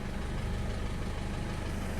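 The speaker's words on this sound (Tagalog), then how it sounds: "umandar yan makina na." An Isuzu D-Max pickup truck engine idles steadily with a low, even rumble and faint rhythmic pulsing, continuous throughout with no voices.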